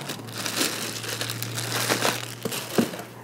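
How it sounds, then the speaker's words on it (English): Plastic wrap is peeled off a Diffuser World Aroma Spa diffuser, making a steady, close crinkling and crumpling that runs without a break over a faint low hum. "We'll take the plastic wrap off."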